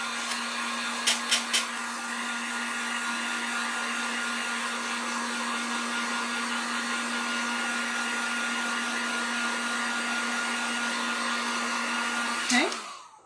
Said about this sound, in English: Let's hit this with the heat gun real quick just to make sure we're dry.